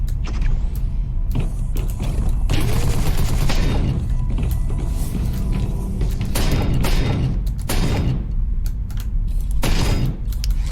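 Dense, sustained gunfire and explosive booms fill a frantic firefight in the shooter video game Protocore, with bursts and impacts stacking up loudly and continuously throughout.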